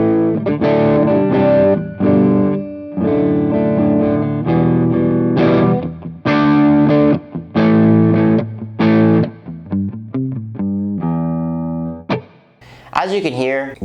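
Overdriven electric guitar run through a Revv G2 green overdrive pedal placed in the amp's effects loop, played in loud chugging bursts and sustained chords with short gaps, ending on a squealing high note.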